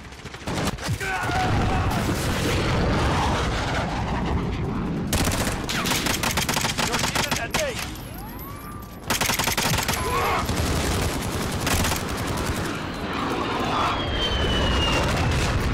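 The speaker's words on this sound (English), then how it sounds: "Enemy VTOL in the AO." Enemy VTOL aircraft attacking in Call of Duty Modern Warfare: sustained heavy automatic gunfire and rattling bursts over a continuous aircraft roar, with occasional booms and a high whine, with voices talking underneath.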